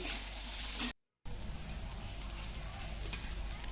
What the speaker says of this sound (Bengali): এই ফুলকপিটাকে ভালো করে ভেজে নিতে হবে গ্যাসের ফ্লেম লো টু মিডিয়াম রেখে